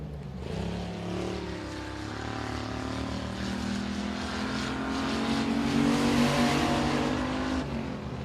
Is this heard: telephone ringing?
no